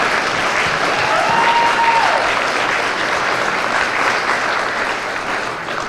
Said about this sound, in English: If we could take a moment to give Olin a round of applause for creating this competition.